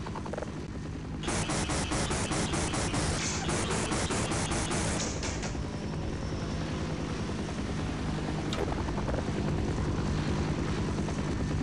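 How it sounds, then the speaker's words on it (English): Steady droning rotor and engine noise from a helicopter in Half-Life, loud and continuous throughout, with a brief burst of rattling gunfire early on over the constant whir. "You can actually kill the copter."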